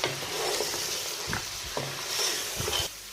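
Mutton browning in a pan over medium flame with a tablespoon of Kashmiri red chili powder, a steady close sizzle broken by a few stirring scrapes.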